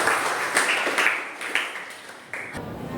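Applause from an audience during a school presentation, a few seconds of scattered clapping in uneven bursts, moderately near and without speech over it.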